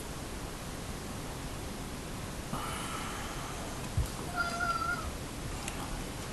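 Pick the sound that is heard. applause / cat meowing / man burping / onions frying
cat meowing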